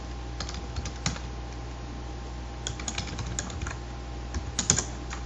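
A computer keyboard clatters as code is typed in irregular bursts of soft clicks, with pauses between runs, quiet and close over faint room hum.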